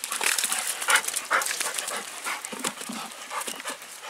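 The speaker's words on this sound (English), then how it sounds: "Crazy, crazy dog." A playful dog, wet from fetching a ball out of a puddle, pants in quick, breathy bursts close by, with soft shuffling and splashy movement between breaths; no voices.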